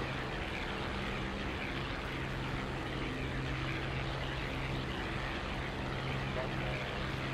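An aircraft in a flight video game flies a touch and go with a steady, continuous engine drone, and voices are faintly audible under it.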